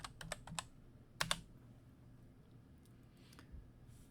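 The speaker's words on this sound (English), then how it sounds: "I'm going to type in units" Keys clatter on a computer keyboard as a short command is typed into drafting software, a quick burst of close taps followed by a second cluster, then quiet.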